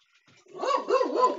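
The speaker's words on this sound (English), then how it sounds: "Dog says hi." A nearby dog lets out a short, warbling vocalization that rises and dips in a wavering, yowl-like way and swells louder after a quiet start, with no talk.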